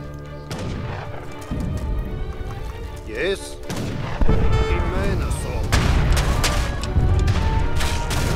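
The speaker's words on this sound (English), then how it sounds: "Let the cannons do their thing first." Cannon fire from the Age of Empires 3 game, several heavy booms and thumps in close succession amid battle noise, with someone briefly speaking over it.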